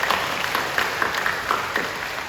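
Church congregation applauding during a Sunday communion service, a steady wash of many hands clapping throughout, fairly loud and even with no voices on top.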